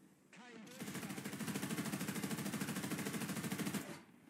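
Rapid machine-gun fire from tanks trading shots in War Thunder, a dense sustained burst of rattling rounds that starts after a short lead-in and runs loud and steady for about three seconds before cutting off.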